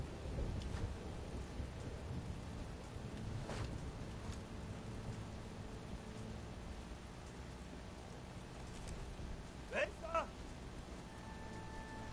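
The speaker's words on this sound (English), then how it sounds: "I totally forgot the thunder was going." Thunder in the shooter Sniper Elite Resistance: a faint, distant low rumble beneath soft rain-like noise, with a few brief sharp crackles toward the end.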